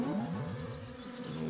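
A swarm of bees in the video game Kingdom Hearts Re: Chain of Memories gives a steady droning buzz with a wavering pitch, heard alone for a moment.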